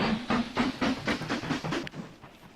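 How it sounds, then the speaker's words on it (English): A two-engine steam train in the Mashinky game chuffs in a steady rhythm of hissing puffs over a low rumble, moderately loud and fading slightly toward the end. "It's our first 2-engine train here."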